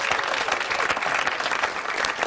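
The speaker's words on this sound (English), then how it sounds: "How about a big round of applause for these kids," Loud, dense audience applause for kids at a comedy show, a continuous burst of many hands clapping close up with no speech on top.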